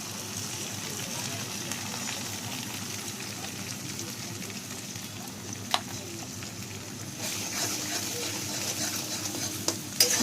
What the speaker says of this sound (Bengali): এবার একটা ডিম দিয়ে দেবো।